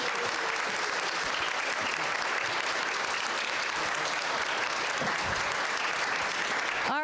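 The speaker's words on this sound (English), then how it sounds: "let's all clap as Tremaine goes across the bridge" An audience claps steadily throughout as a child crosses a bridge at an event, a dense, even patter of many hands kept up at moderate volume without a break.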